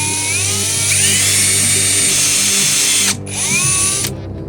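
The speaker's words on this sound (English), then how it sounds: "next I'm going to drill a hole in the side where it's going to plug into the Sherman from" A power drill turning a step bit bores a hole into the side of a Sherman front light, a steady, loud whine that dips briefly near the end before spinning up again.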